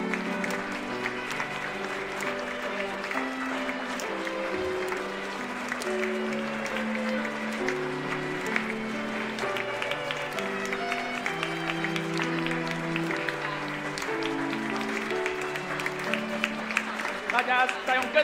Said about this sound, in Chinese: 大家再用更大的掌声